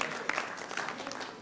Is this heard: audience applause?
yes